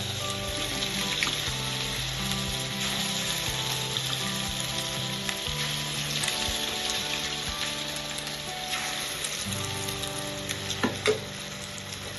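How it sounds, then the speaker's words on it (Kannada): Rava kajjaya, a semolina sweet, frying in hot oil in a home kitchen: a steady, close sizzle and bubbling that runs throughout, with occasional light stirring clinks. "ಎಣ್ಣೆ ಕಾದಿದೆ. ಈಗ ಹಿಂಗೆ ರವೆ ಕಜ್ಜಾಯನ್ನ ಹಾಕೊಂಡು"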